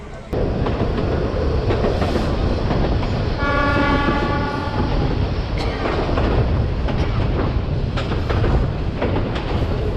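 A local passenger train in northern Bangladesh, running from Santahar to Lalmonirhat, rumbles along steadily with constant wheel and carriage noise, a brief horn blast sounding in the middle.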